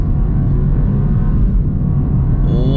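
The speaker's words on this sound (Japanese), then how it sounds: "スポーツモードにして床まで踏んでみましょう。" BMW 220i M Sport coupe, rear-wheel drive, accelerating at full throttle in sport mode on a bypass road, heard from inside the cabin as a steady, loud low engine drone that holds constant throughout.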